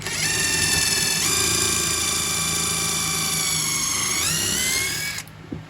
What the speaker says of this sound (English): We're drilling pilot holes to prevent any splitting of the wood